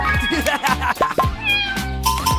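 A cat meows repeatedly in loud, close, plaintive rising and falling cries, several overlapping calls packed into a couple of seconds.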